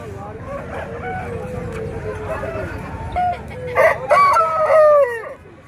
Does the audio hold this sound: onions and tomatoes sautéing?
no